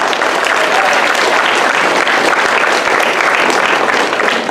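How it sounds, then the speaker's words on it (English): Dense, loud applause fills a school assembly at a Veterans Day panel, steady clapping from a large audience throughout with no break. "a huge round of applause for Chris for bringing this to us."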